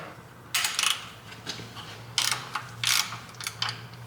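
A socket and extension turn a 5.3 GMC Canyon truck's oil filter, giving several bursts of quick metallic ratchet clicking separated by short pauses, close and fairly loud.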